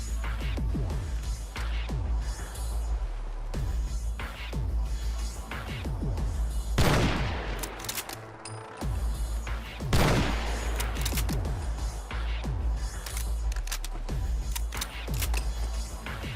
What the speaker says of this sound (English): The next weapon is DSR-50 high-power sniper rifle by Jeffs